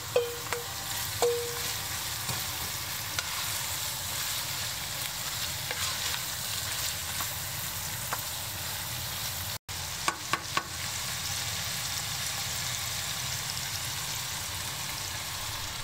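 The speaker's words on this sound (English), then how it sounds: "add all vegetables except for the thick fried tofu and stir fry them." Continuous sizzling and crackling of pork and vegetables stir-frying in a hot pot, with occasional clinks of a utensil against the metal.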